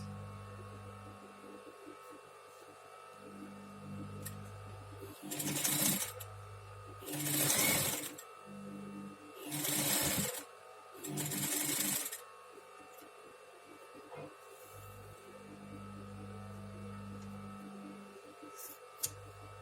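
A sewing machine stitching patchwork fabric runs in four short bursts of a few seconds each, separated by quiet pauses, close and fairly loud.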